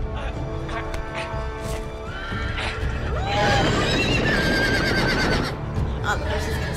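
A horse in the Game of Thrones Telltale video game neighs loudly in a shrill whinny amid clip-clopping hooves, with scored background sound and a brief voice underneath.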